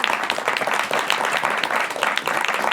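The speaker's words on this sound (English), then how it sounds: "Join me in giving Brandon a round of applause." Bookstore event crowd at a fireside chat claps together in a dense burst of applause lasting a few seconds, fairly close and even, with no talking over it.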